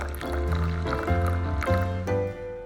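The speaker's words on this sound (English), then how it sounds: "Start by measuring out 1/4 cup of strongly brewed coffee." Strongly brewed coffee pours into a measuring cup in a steady, close liquid stream that rises in pitch as the cup fills, then stops.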